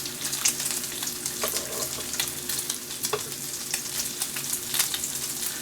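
Bacon fries on an electric griddle with a constant crackling sizzle, sharp pops and spits scattered through it, a few louder bursts standing out, heard up close with no voices.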